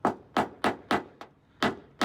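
Sharp metallic taps on a dented Toyota Land Cruiser panel during paintless dent repair, repeated at a steady rhythm, about seven close, crisp strikes with brief ringing decay, no talking.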